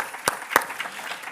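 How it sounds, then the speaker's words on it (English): Applause from the audience at a Europe Housing Day conference, a thin, spread-out patter of clapping with a few sharper claps, moderately distant. "I do want to offer up one more round of applause for our technical crew."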